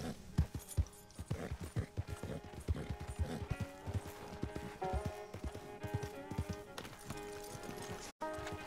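A horse gallops in Red Dead Redemption, its hooves clip-clopping in a quick, steady rhythm up close, layered over game music and effects, with a short dropout near the end.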